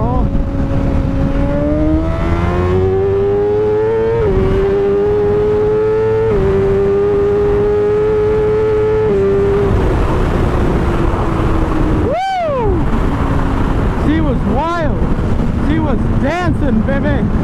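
A BMW S1000RR sport motorcycle accelerates hard in second gear, its engine note climbing steadily in pitch with brief dips at shifts, loud and close under wind roar, ending in a sharp rev drop and blips.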